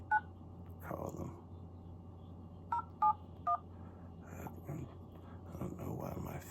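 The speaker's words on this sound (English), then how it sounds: "I don't know why my phone is not on automatic dial" A phone is dialed by hand, and its short keypad tones sound in scattered pairs and singles, faint and close. A hushed voice murmurs quietly around them.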